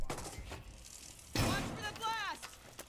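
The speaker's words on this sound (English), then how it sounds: "Lobs in a grenade, doesn't find anything" A grenade lands with a short, sharp blast in a shooter game, a single brief thud-like burst midway through, with a voice talking before and after over faint background gunfire.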